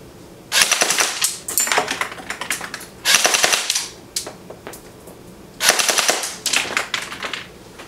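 A Cybergun M14 Socom airsoft electric rifle on its stock 8.4 volt battery fires full auto at about ten rounds per second, in three loud, rattling bursts with short stutters and pauses between them, close and alone.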